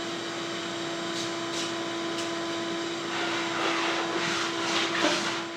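A vacuum cleaner runs over a tiled floor with a steady, even whine and airy hiss, growing a little louder and rougher toward the end as the nozzle moves around.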